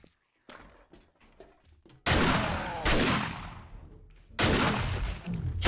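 Loud gunshot blasts in the survival game 7 Days to Die, Alpha 21: a couple of sharp, broadband reports with long ringing decays, the first after a quiet stretch of faint movement, the next a few seconds later.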